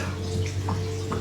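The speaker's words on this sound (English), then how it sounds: "There's water falling here." Water pours from a new pipe into a tank at a swampy site, a steady faint splashing trickle with a low hum beneath it and no voices.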